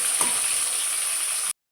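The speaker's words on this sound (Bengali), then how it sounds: "দেখুন, চারটে চারটে করে মাছ দিয়ে ভেজে নেব।" Pieces of katla fish fry in a pan with a bright, constant sizzle up close. The sound cuts off suddenly near the end.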